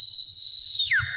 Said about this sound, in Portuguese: Aí o juiz vai apitar.